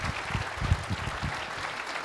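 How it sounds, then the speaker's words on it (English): A civic audience at a city address applauds scholarship students, a steady crowd clapping at moderate level that carries on evenly with a few slightly stronger bursts. "How about a big round of applause for our Stargate scholars here?"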